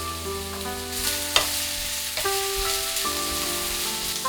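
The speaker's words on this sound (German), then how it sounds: "Grünen Spargel in die Pfanne geben." Green asparagus fries in a hot pan with a continuous close sizzle, while several distinct scrapes and clacks of stirring punctuate it.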